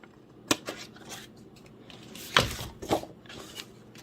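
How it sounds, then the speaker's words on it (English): Scissors snipping through scored card stock during papercraft, a few sharp crisp cuts with quiet pauses between, close and fairly soft. "Cut up to the second score mark. Cut on a diagonal."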